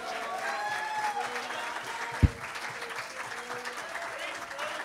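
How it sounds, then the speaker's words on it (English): A church congregation claps in praise, a soft, steady patter of hands mixed with voices and sustained music, with one sharp thump partway through. "Give him a hand clap of praise."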